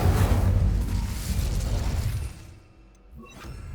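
A Confringo blasting curse from Hogwarts Legacy, cast inside a haunted Hogsmeade shop, erupts in a loud, crackling burst that rumbles for about two seconds and then fades, followed by a softer magical flicker.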